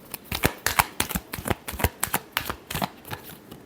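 Tarot cards shuffled by hand in a close, quick rhythm of soft slapping riffles, repeated evenly with no voices.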